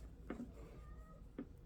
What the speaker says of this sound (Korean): 털공 가지고 지금 놀 때 저렇게 흥분해서 소리가 나요